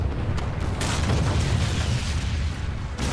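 A monster's bomb run in a Monster Hunter game sets off a string of loud, overlapping explosions, with deep rumbling booms and sharp bursts packed together over a few seconds, no speech on top.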